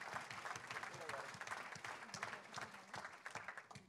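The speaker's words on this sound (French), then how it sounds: "Et je voudrais qu'on les applaudisse et on les embrasse très fort." Audience at a French political party national council meeting applauding continuously, a dense patter of many hands clapping throughout, heard from a distance and fairly faint.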